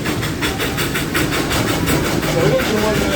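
The Dollywood Express steam train, Engine 192, formerly of the White Pass and Yukon Railroad, rumbles along loudly as a dense continuous roar with faint rhythmic rail clatter and no voices.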